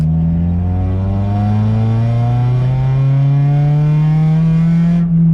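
An Acura RSX engine revs hard and climbs steadily in pitch for about five seconds with a slipping clutch, loud and close, then cuts off abruptly.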